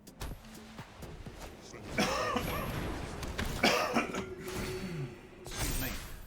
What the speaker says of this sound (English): Coughing away there.